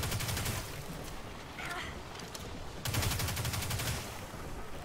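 Sustained automatic gunfire rattles loudly in the video game Destiny 2, a dense rapid stream of shots that dips briefly midway and then resumes at full intensity.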